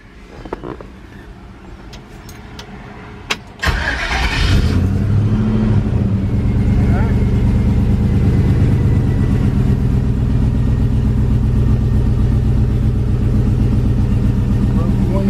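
A large truck engine cranks and catches, then settles into a loud, steady rumbling idle that holds for several seconds after a few quiet clicks.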